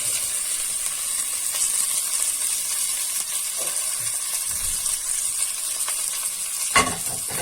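Lentils and rice sizzling and hissing as they are stirred into a pot of frying pasta and vermicelli for koshari, a steady close crackle with occasional scrapes and clinks.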